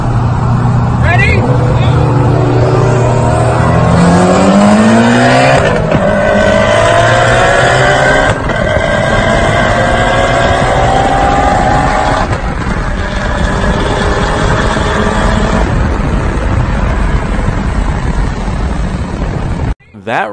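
A tuned Mitsubishi Evo running on E85 and a full bolt-on tuned E85 Cadillac CTS-V street racing, loud engine roar climbing through rising revs and gear changes, heavily distorted and close, ending abruptly.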